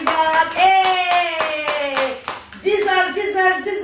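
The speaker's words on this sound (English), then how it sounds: "Clap for Jesus" Hands clap in a steady, repeated rhythm at a lively church-style praise chant, with a brief pause midway before the clapping resumes, while voices sing and call out over it throughout.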